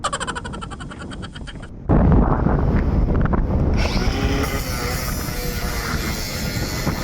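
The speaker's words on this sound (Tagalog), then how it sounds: "Pasensya na kayo maingay kasi sobrang lakas ng hangin dito sa taas." Strong wind high up on a ship roaring and buffeting a microphone, loud and steady, with a brief rattling mechanical noise at the start.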